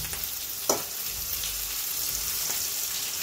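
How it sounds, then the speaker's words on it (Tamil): Mixed vegetables for upma sautéing in a pan, a steady broadband sizzle with a few sharp scrapes of a spoon stirring through them, close and continuous. "இப்போ காயெல்லாம் நல்லா வதங்கிட்டங்க. வதங்குற அளவுக்கு நம்ம எல்லாம் தடவி கொடுப்போம்."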